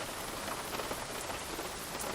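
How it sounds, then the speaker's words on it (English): Rain from Active Sky weather in a flight simulator, a dense, steady hiss of drops pattering on a surface, faint and continuous with no voices over it. "now we've got bad weather and rain here all of a sudden"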